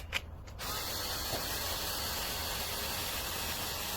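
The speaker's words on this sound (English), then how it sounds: "basic but nice electric screwdriver" A 3.6V JENABOM 14-in-1 cordless electric screwdriver, with its chuck spinning slightly off-center, starts up after a brief pause and then runs as a steady, even whir, close and moderately loud.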